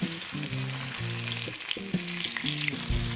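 Wild game frying skin side down in a skillet of hot oil at about 350 degrees, a steady close sizzle with music-like tonal layers over it and no talking.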